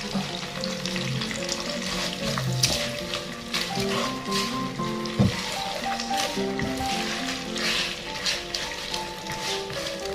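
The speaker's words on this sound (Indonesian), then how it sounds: "Terus kita masukin udangnya. Aduk deh, aduk deh." Shrimp is stirred into a spice paste frying in oil in a pan, giving a continuous close sizzle with wet squishing and scraping stirs over faint tonal background sound.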